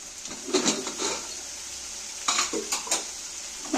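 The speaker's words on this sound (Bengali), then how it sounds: "এইবার আমি ভালো করে কষিয়ে নেব দেখো মশলাটা সম্পূর্ণ কষানো হয়ে যাবে" Spice masala stirred and fried in a pan on the stove, with a low background sizzle and a few short bursts of metal spatula scraping and clinking against the pan, close up.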